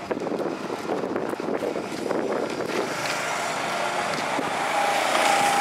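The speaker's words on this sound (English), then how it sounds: "You hear the roar of the engines." Go-kart engines in a race at Okuma on an overcast day make a broad, droning roar mixed with wind noise on the microphone, swelling louder toward the end.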